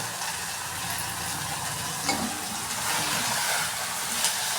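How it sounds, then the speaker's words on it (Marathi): Fenugreek greens sizzle steadily in a hot pan with peanut oil, a dense, even hiss with an occasional scrape of stirring. "भाजी तर आवाज यायला लागला आहे भाजीचा"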